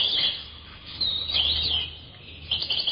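Lovebirds chirp in high, squeaky twittering bursts, several short runs of calls coming close together over a low background hum.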